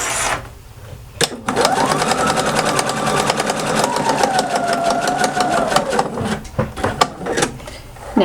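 A sewing machine stitches across ribbon for a pacifier clip, running loud and close in a steady whirring burst of about five seconds. A few clicks and knocks come before and after.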